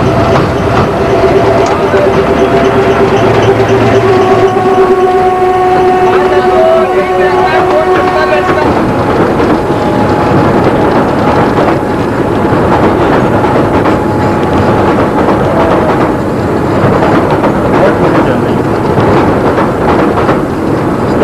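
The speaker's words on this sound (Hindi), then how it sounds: "कोई ट्रेन आ रही है?" A train rumbles along a railway near a village, loud and steady with a drawn-out horn-like tone early on, while a voice speaks over it.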